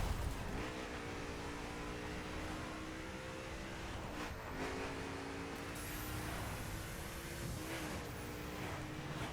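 McLaren engine in The Crew driving game, steady droning hum with repeated gear shifts and rising revs over nine seconds, moderately loud and continuous.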